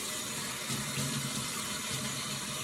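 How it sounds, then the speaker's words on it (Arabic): Hands are washed under a running kitchen tap, a continuous close rush of water splashing into a sink with slight shifts as the hands move through the stream, and no voices. "انا غادي نغسل الديه"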